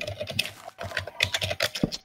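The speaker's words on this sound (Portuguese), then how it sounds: "Mas quem pô, tá macetando o teclado aí?" Fast, heavy pounding on a computer keyboard, with a dense burst of clattering keystrokes and short gaps, close and on its own in a Minecraft session.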